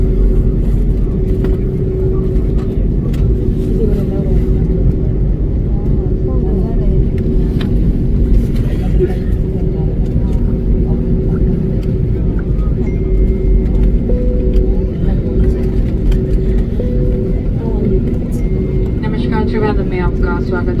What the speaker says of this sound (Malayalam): ഇപ്പോൾ ഈ ഫ്ലൈറ്റ് ഉയർന്നുകൊണ്ടേയിരിക്കുന്നു